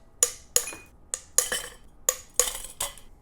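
Cracked ice cubes clatter into a metal cocktail shaker for a margarita in a series of about seven sharp, bright clinks that come close together and then trail off, with no one talking.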